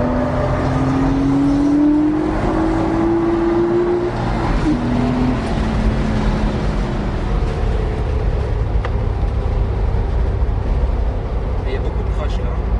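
A Porsche Boxster 2.5 lapping the Nürburgring Nordschleife, its engine a steady loud drone with a rising whine early on, while someone talks over it.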